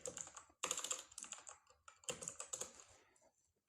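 Rapid bursts of typing on a computer keyboard while coding, with close, crisp keystroke clusters separated by short pauses.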